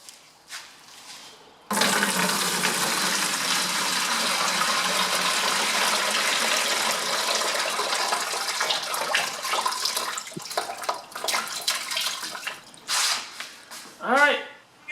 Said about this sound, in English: Pull the caps off and drain the acid out.